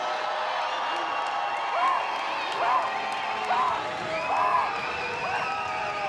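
A stadium crowd at a women's football league game in Saskatoon roars in a continuous, moderately loud swell with rising shouts and cheers, while a commentator talks over it.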